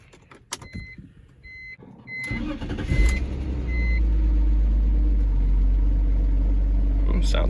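A BMW 325Ci convertible being started after battery work: warning chimes beep a few times, then the starter cranks and the engine catches into a loud, steady idle rumble up close.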